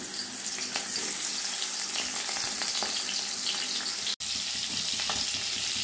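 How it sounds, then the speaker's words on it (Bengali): Sarputi fish rubbed with salt and turmeric fry in hot mustard oil in a kadai, a close, loud, steady sizzle with a brief dropout near the end. "এবার ভেজে নিব।"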